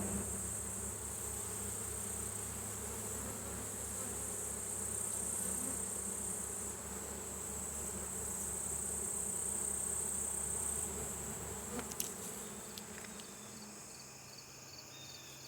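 Honey bees buzz steadily around hives in an apiary on a late autumn evening during requeening, a dense continuous drone close by with a low hum throughout, briefly disturbed near the end.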